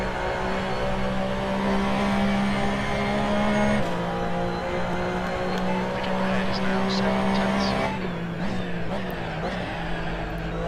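Race car lapping the Nürburgring in the Assetto Corsa racing game, its engine droning steadily at high revs with a sharp gear change partway through and a drop in pitch near the end, up close and continuous.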